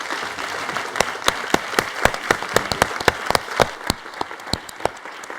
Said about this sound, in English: let me ask you for an applause